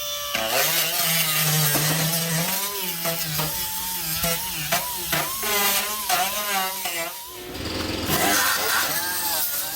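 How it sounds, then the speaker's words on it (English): An angle grinder works rust on the body of a 1976 Ford LTD, a loud, continuous whine with shifting pitch as the disc bites and eases off the metal, dipping briefly near eight seconds before picking up again. "So let me grind around a little on this and see where we're at."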